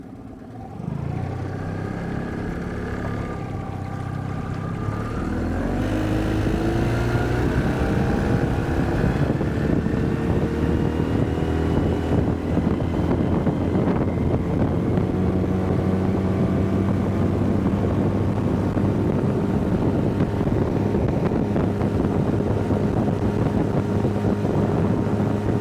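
A Suzuki outboard engine on an Alumacraft aluminum boat starts and climbs to a loud, steady drone that holds for a long stretch under rushing wind and water noise.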